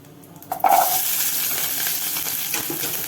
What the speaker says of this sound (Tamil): இப்போது நம்ம வெங்காயம் போடும்.